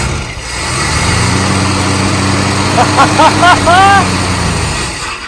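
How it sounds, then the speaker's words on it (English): A Holden Commodore engine idles loudly close by, then revs in several quick throttle blips and settles back before cutting off, with someone talking briefly. "I'm working the throttle on that, obviously."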